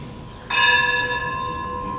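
A single bell struck once with a sharp onset, its bright metallic tone ringing on steadily and slowly fading, loud and close in a quiet room during a devotional class.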